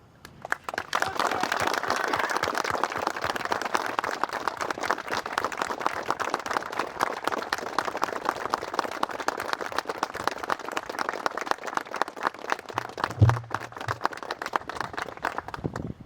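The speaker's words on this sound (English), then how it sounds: "please give a warm round of applause for our retiring soldier and his family" Sustained, dense applause from a crowd at a military retirement ceremony honoring a retiring soldier and his family, steady and fairly even for over fifteen seconds.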